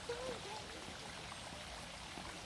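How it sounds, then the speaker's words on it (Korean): A soft continuous rush of flowing water, like a small stream or waterfall, stays steady and fairly distant, with a faint brief whistle near the start. "물소리 들려 물소리 물소리"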